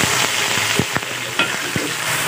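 Blended chili paste hitting hot oil in a wok for chicken cooked in red sauce, a loud continuous sizzle close up with a few sharp scraping stirs of a spatula, and no talking.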